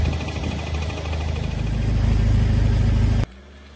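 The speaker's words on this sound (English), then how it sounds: "even if you're in a lifted four-wheel drive like this one with larger than standard tyres, well, you can still ingest water into your engine" A lifted four-wheel drive truck on larger than standard tyres pushes through floodwater. Its engine drones steadily, with water rushing and sloshing around it, loud and close, rising slightly in intensity before cutting off abruptly near the end.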